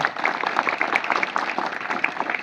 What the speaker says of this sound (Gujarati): આ ત્રણેયનું આપણે તાળીઓથી સ્વાગત કરીએ